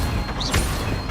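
Accio and Incendio spells are cast in Hogwarts Legacy on Xbox Series X, giving a quick rising magical whoosh and then a short fiery burst over dense game background noise, all in about a second.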